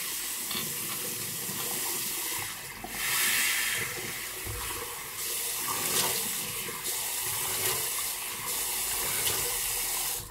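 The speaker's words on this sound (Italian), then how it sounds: "Acqua fria." Cold water runs steadily from a tap for rinsing during a hot-towel shave, a continuous hissing splash with slight surges and no talk.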